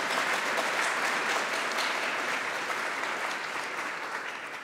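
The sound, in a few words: conference audience applause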